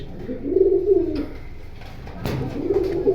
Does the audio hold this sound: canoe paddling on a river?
no